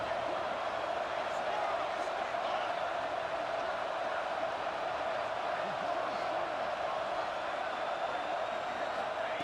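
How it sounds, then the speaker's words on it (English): A large football stadium crowd roars steadily through a red zone defensive stand, a dense, continuous wash of cheering with no break. "And here comes the noise. This crowd is trying to inspire this defense to make a big red zone stop."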